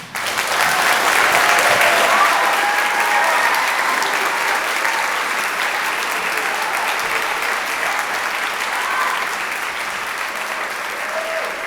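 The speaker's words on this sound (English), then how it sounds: "So let's give them a round of applause." Sustained applause from a large audience at a high school spring orchestra concert, loud at first and tapering slightly while staying steady throughout, with a few faint voices mixed in.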